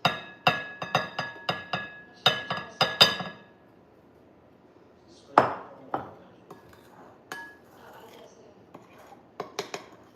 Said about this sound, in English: add the dry mix over the wet mix and stir until just combined